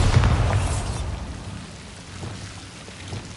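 Bombarda or Confringo explosion spell in Hogwarts Legacy, a loud booming blast at the start that rumbles and decays into a noisy, rain-like wash with faint later thumps.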